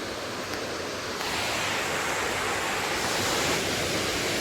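A dense, steady roar of rushing water, broad and unbroken from nearby Abbey Falls in Coorg, Karnataka, swelling slightly louder after the first second; no voices.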